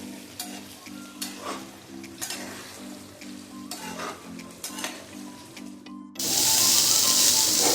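Paneer sabzi sizzles in a pan while a spoon stirs through it with scraping, clinking strokes, then a loud, steady sizzle takes over near the end.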